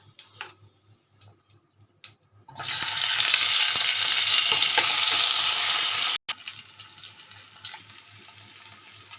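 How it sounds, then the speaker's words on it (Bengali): Cumin and potatoes hit hot refined oil with a sudden loud, hissing sizzle that holds steady for a few seconds, then drops to a quieter crackle after a brief break, with small clicks before it starts. "জিরে একটু ফোড়ন দিয়ে তারপরে আলুগুলোকে এতে ভাজবো।"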